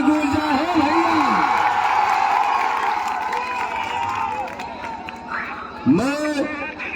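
Crowd at a political rally in Karakat cheering and whooping in a sustained roar, with a brief burst of shouts near the end; speech mixed into the din.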